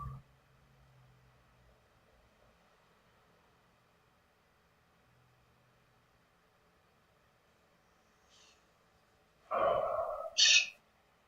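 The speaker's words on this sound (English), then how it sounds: "That's a parrot." A wild parrot calls outdoors near a street, giving two loud, harsh squawks close together right at the end after a long quiet stretch of faint background hiss.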